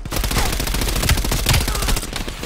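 Rapid automatic gunfire rattles in Call of Duty Black Ops Cold War, loud dense bursts of shots firing continuously, with a few heavier cracks standing out among the stream.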